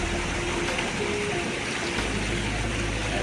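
Water runs steadily through a decorative water feature at a hospital in Nepal, a continuous rushing trickle close by with no pauses.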